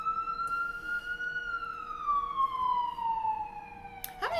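Police siren passing outside, a single long wail that rises gently then slides downward as the vehicle moves past, fairly distant and clear over a quiet room.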